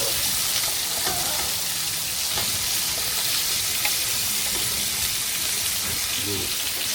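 Continuous loud sizzling of chicken frying in masala in a pan, with stirring scrapes and a faint voice speaking underneath.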